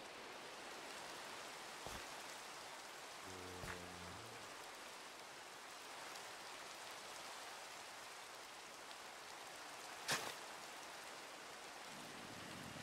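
Steady hiss of rain falling in Minecraft, soft and continuous, with a few faint clicks and a brief low thump.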